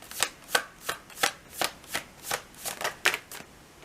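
Tarot cards shuffled by hand in a quick, even riffling rhythm, about ten crisp bursts close up with no talking.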